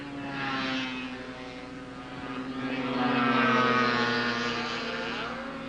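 Skiroule and Yamaha racing snowmobiles on a 1971 Eagle River race track, their engines droning loudly in two swells as machines sweep past, with a steady high whine and shifting pitch.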